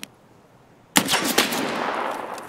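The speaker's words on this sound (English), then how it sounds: "Oh, that's a gun" A gun fires in Escape from Tarkov: after a brief silence, a loud, sustained automatic burst erupts and rattles on continuously with a booming tail, with no voices over it.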